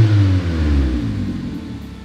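A Suzuki Swift engine revs loudly through a new rear exhaust, a close, deep rumble whose pitch swings down and settles into a fading drone.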